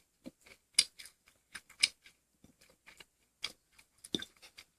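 Crisp, crunchy bites and chewing of a homemade crunchy cheese snack come in irregular bursts, close to the mic, with quiet gaps between them and no talking.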